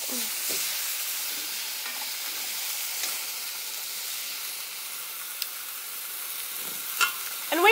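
Pork carnitas browning in a pan just after being flipped, giving a continuous hissing sizzle with occasional light clicks of a utensil, ending in a brief louder scrape.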